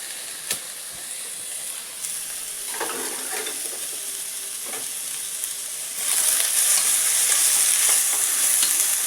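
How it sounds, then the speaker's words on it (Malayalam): Vegetables, starting with carrot and corn, stir-fried over a high flame for egg fried rice, giving a steady sizzling hiss with stirring scrapes; the sizzle grows louder and brighter partway through, with no voices. "ഹൈ ഫ്ലെയിമിലിട്ടിട്ട് ഒന്ന് വേഗത്തിലൊന്ന് വാട്ടിയെടുക്കാം"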